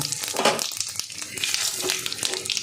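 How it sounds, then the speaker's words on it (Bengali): Whole cumin seeds and a bay leaf hit hot oil for a tempering, giving a close, steady crackling sizzle with a few light stirring scrapes. "ফোড়নে দিয়ে দেব গোটা জিরে, আর একটা তেজপাতা দিয়ে দেব।"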